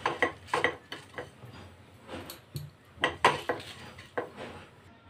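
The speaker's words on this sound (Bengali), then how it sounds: "এটা শুকনো ফ্রাই প্যানের মধ্যে ভেজে একটা আমি মশলা তৈরি করে নেব, গুঁড়ো মশলা।" Whole spices dry-roasting in a frying pan, stirred with a utensil that scrapes and clacks against the pan in irregular bursts, close and fairly quiet with no talk.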